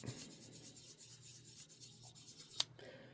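A 6000-grit sanding sponge rubs wet over part of an HO scale model locomotive in quiet, rhythmic back-and-forth strokes, soft and close, with a small sharp click near the end.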